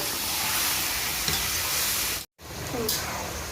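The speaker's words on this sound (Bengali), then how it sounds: "এবার মাংস দিয়ে দেবো পেঁয়াজ রসুনের সঙ্গে মাংস করে কষিয়ে নেব" Broiler chicken meat fries with onion and whole garlic cloves in a pan, a steady loud sizzle with occasional stirring scrapes, briefly cut off for a moment.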